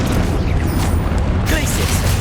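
A Confringo spell explosion in combat in Hogwarts Legacy, a loud, dense booming burst that fills the whole short moment, with a voice calling out spells beneath it.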